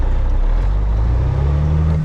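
A heavy truck's engine drones loudly and close by on the road, its pitch rising slightly midway as it pulls forward in gear.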